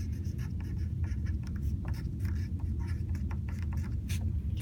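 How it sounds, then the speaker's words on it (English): A pencil writes a name on paper in a steady run of close, scratchy strokes with short pauses between letters, and no one speaks. "Oh, I gotta write my name."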